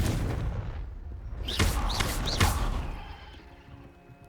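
Confringo blasting spell cast in a wizarding adventure game, three sharp explosive bursts in quick succession, each with a bright whooshing streak, over a rumbling ambient bed that fades afterward.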